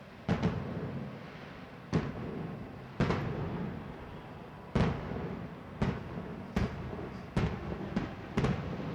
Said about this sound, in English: fireworks before the game